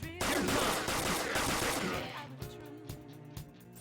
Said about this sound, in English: with the gun, you can shoot as many times as you want